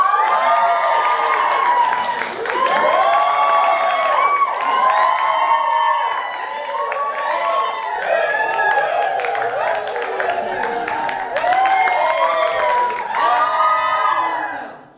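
A crowd at a Halloween improv comedy show cheers and yells loudly for a team, with many overlapping voices, whoops and children's shouts sustained for about fifteen seconds and dipping briefly near the two- and fourteen-second marks, with some clapping underneath.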